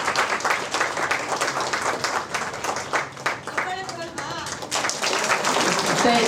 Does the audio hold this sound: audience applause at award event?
yes